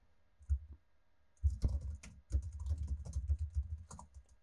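A command typed on a computer keyboard, a close, quiet run of irregular key clicks with short bursts and pauses, with no talk.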